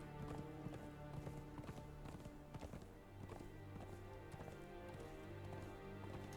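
Foals' hooves clip-clop in the Conan Exiles video game, a steady run of hoofbeats over looping game music and ambient sound, fairly quiet throughout.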